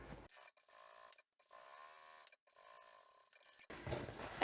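A domestic sewing machine runs stitching seams along a fabric foldable playing card holder, its motor whirring in several steady bursts with short pauses between, close and moderately quiet, ending with a louder rustle of fabric being handled.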